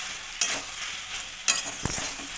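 Vegetables with chili powder mixed in water fry in a pan, a soft sizzle punctuated by a few scraping spatula strokes and light knocks as they are stirred.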